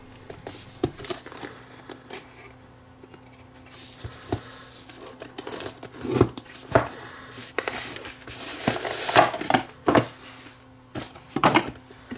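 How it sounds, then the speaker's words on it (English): Earbud retail packaging being opened by hand: scattered crinkles, taps and rustles of plastic and cardboard, close and moderately loud, with irregular bursts over about twelve seconds and a faint steady hum beneath. "So let's crack open the package and check out what is supplied."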